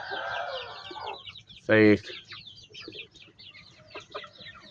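Young chickens around three to four months old clucking in a farm yard, one loud close squawk in the middle, with scattered softer clucks and chirps and a person talking early on.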